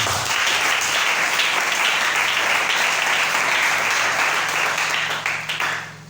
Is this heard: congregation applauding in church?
yes